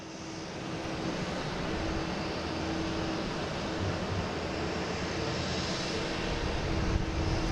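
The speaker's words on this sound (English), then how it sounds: "there's JetBlue heading to San Juan" A JetBlue airliner departing Boston Logan for San Juan produces a continuous, moderately loud engine roar with a steady underlying hum throughout, no talking.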